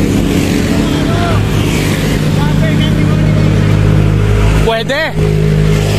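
Motorcycle engines droning loudly and steadily during a group ride around Jala-Jala, with wind rush, engine pitch shifting as bikes pass, and a voice briefly calling out near the end.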